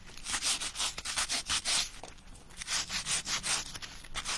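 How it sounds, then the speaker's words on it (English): Close, rhythmic rubbing strokes of a soft sanding block on a laser-cut bird house, a quick back-and-forth scratching repeated about a dozen times with a brief pause midway. "Give this a little bit of a sand."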